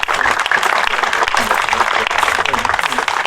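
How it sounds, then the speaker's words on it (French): An audience at a Légion d'Honneur society prize ceremony applauds a high-school award winner with sustained, dense clapping from a sizable crowd, loud and continuous throughout. "Je crois qu'on peut l'applaudir."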